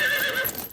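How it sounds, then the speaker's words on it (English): A single horse whinnies in a short, high, wavering neigh that fades out quickly, loud and close with no talk. "got into the habit of digging his spurs into his horse to make it jump and whinny"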